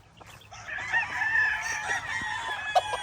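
Gamecock roosters and stags crowing on a farm, one drawn-out crow rising and holding near the mic with faint clucks and other birds around it.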